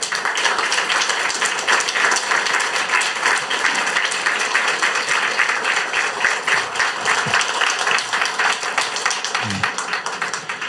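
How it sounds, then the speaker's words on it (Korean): Church audience applauding to welcome a pastor to the stage, a steady wash of many hands clapping that continues evenly for about ten seconds, with a couple of faint low thumps near the end. "여러분 큰 박수로 환영해 주시기 바랍니다"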